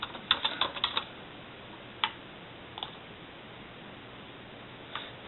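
Fingers typing a name and password on a computer keyboard, a quick burst of soft clicks followed by a few isolated keystrokes, close and quiet in a still room.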